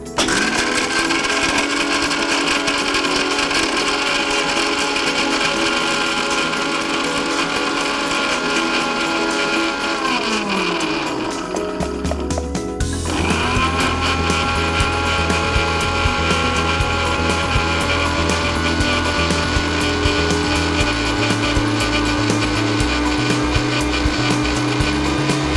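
A mixer grinder jar pulverizes roasted peanuts into fine powder for homemade Balasakthi malt, a loud continuous motor whine with rattling contents, briefly stopping midway and restarting with a lower, steady grinding hum.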